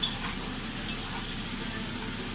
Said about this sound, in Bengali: কাঁচা লঙ্কা, টমেটো আর রসুন কুচিটা আমাদের ভালো করে একটু ভাজতে হবে।